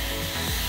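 An IG INGLAM high-speed ionic hair dryer blows with a steady, loud whooshing roar, a faint low rumble shifting partway through.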